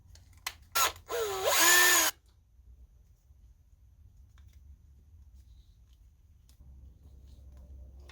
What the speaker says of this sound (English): Actually be using a drill and pre-drill my hole.